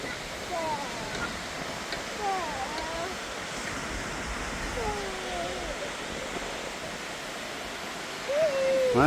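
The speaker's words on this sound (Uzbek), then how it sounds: "Mana biz izlagan sharshara bana nihoyat yetib keldi." A waterfall in the mountains near Sangardak, Tajikistan, makes a steady rushing wash beneath birds chirping and a voice talking.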